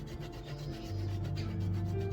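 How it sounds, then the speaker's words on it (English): Almond paste is grated by hand for a pear almond tart, a soft rhythmic rasping rub repeated in quick strokes, close and fairly quiet. "So you just keep grating it until the whole tube is taken care of."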